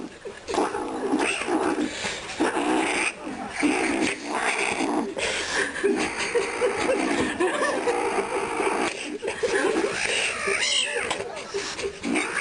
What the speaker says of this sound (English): this cat video is extra special